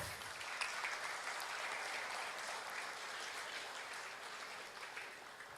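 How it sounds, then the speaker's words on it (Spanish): A church congregation applauds at a Spanish-language service, a faint, even wash of many hands clapping that holds steadily throughout without swelling or breaking. "Démosles un aplauso,"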